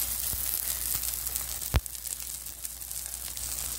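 Squid, clam meat, onion and chilies fry in a pan with chives, giving a faint, steady sizzle and one brief sharp click partway through, without speech.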